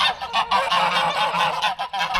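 Ducks being fattened for their livers along the Camino de Santiago in Spain honk in a loud, continuous overlapping chorus of nasal calls close by, with no talking.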